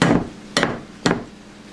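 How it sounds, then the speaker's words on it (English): Three sharp cracking knocks on the knuckle of a Dungeness crab shell, one loud strike followed by two more spaced about half a second apart, close up with no talking. "strike the knuckle."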